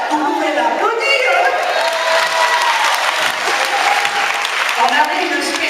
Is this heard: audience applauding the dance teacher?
yes